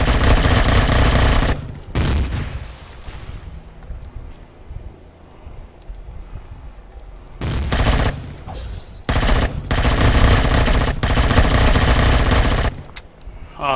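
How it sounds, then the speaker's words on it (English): Rapid automatic gunfire in the space survival game Empyrion, fired at a ship: loud bursts of machine-gun fire start and stop several times with short quiet gaps between them. "Don't shoot at my ship"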